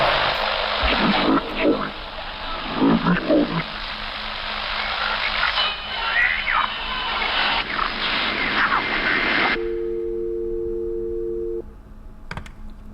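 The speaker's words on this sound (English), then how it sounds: "what I got there was about 5 parts static, 3 parts demon, and 2 parts dance music" Harsh phone-line static washes over a warped, demonic drone and faint dance music in a gas-station horror video game, loud and continuous for about ten seconds before cutting to a steady electronic tone.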